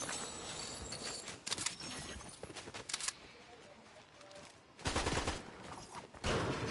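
Gunfire in the Fortnite video game, bursts of shots in clusters with loud stretches near the end, mixed with in-game action noise and no talk.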